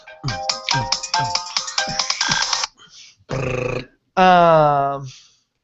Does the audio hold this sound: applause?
no